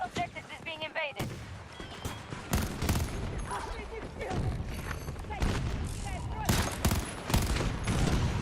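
Battlefield 2042 battle on PS5: dense volleys of gunfire and booming explosions pile up throughout, loud and continuous, with a voice talking over parts of the fight.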